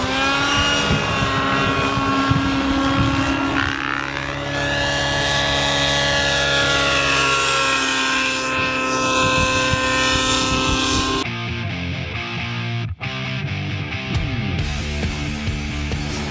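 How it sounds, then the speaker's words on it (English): An OS 105HZ-R model helicopter engine running rich at the flying field, with a loud continuous high-pitched whine and buzz that rises and falls. Its note shifts sharply partway through, then carries on with a rougher, lower tone. "when it's rich, you will hear a note change, quite a note change on the motor when he actually kicks over"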